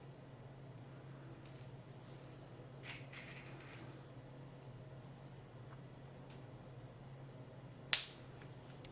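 Push pins are pressed into a star-shaped craft piece, giving a few faint scratches and then one sharp, close snap near the end against quiet room noise.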